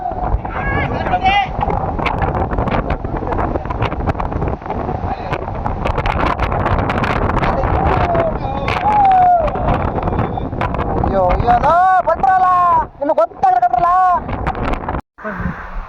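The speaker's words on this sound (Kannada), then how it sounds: "ಭಾರಿ ಗಾಳಿ ಇದೆ" Strong gusty wind on a rocky hilltop in Chikkamagaluru buffets the microphone in a loud, continuous rumble while people talk over it, with brief breaks near the end.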